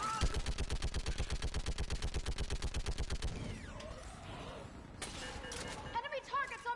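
Rapid automatic gunfire in the video game Mass Effect 3, a fast, even stream of loud shots for about three seconds, then scattered combat noise with voices talking.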